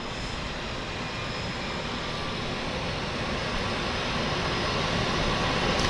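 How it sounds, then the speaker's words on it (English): A de Havilland Turbo Otter floatplane sets up to land at a harbour airport, its turboprop engine a steady, broad roar that holds and slowly swells as it draws nearer, with no talking over it. "So we've got a turbo otter setting up for landing."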